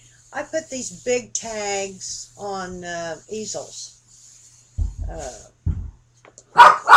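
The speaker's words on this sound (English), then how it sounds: "That's my dog." A pet dog barks in short bursts somewhere indoors near the end, following a stretch of someone talking while she works on craft tags.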